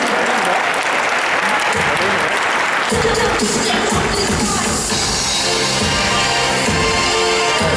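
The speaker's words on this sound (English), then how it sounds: "Give the cosplayers in the back a huge round of applause." Loud, sustained applause from a convention crowd at a cosplay championship, dense clapping filling the hall for several seconds with some cheering, shuffling and background voices mixed in.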